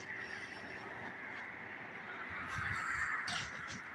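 Crows caw repeatedly from nearby, loud harsh calls running through steady outdoor background noise, with no talking.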